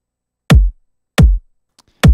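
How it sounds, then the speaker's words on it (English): Three punchy drum machine kicks for a drum and bass track land evenly on the beat, each a loud, deep thump with a sharp click on top, separated by silence apart from a faint tick between the last two. "we're going to add a kick on every four"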